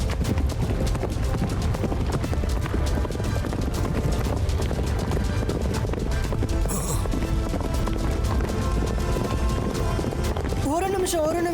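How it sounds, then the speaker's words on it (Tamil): Cartoon horses gallop with a fast, steady clip-clop of hooves under busy music and effects, loud and continuous throughout, with voices speaking over it. "இந்த குதிரைங்க எங்க இருந்து வந்துச்சு?"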